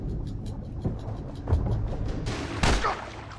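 Gunfire in The Last of Us game: a few sharp shots crack out at irregular intervals, the loudest near the end, over a low, rumbling in-game background.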